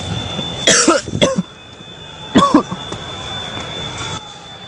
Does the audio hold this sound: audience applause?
no